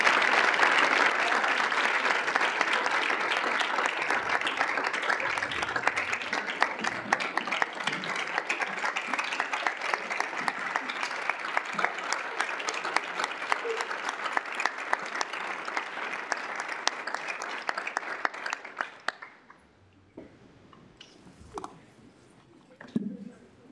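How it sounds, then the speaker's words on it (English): A room of attendees at a student senate meeting applauds in a long, even burst of clapping for nearly twenty seconds, then it stops abruptly, leaving quiet room sound with faint talk. "Could we give Dr. Bosco a round of applause?"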